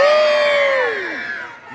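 An audience at a sea lion show at a safari park screams and cheers loudly and up close, a sustained high-pitched chorus of shouting voices that swells and then tails off.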